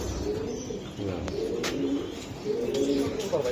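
Racing pigeons from a club loft coo repeatedly in low, soft rolling phrases, close by, with faint background noise and brief higher chirps between the coos.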